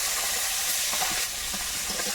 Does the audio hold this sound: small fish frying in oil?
yes